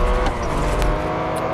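A Porsche 959 spinning donuts in the mobile racing game Real Racing 3, its engine droning steadily while tyres squeal and scrub continuously in a loud, close loop.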